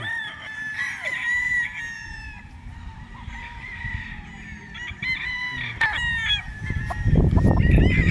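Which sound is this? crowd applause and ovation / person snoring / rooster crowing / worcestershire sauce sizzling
rooster crowing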